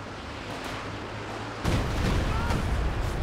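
Artillery volley in the World War II strategy game Company of Heroes 2, a sudden heavy burst of booming, rumbling blasts over ongoing battle noise, loud and dense with a voice talking underneath.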